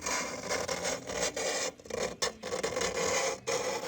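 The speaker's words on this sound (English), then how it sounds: "here is a video of me gloriously scraping off the paint" Paint being scraped off the inside of the glass of an old thrift-store clock, a steady close rasping scrape with brief pauses between strokes, no talk.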